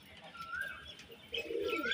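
A pigeon's low, throaty coo swells near the end, over a soft background with faint higher chirps.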